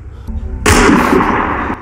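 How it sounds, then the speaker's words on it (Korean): Gunfire erupts in a zombie film scene, a loud burst of overlapping shots that rings out and slowly decays, after a quieter low rumble. "총성이 울리며 누군가 좀비들을 모두 사살해버립니다."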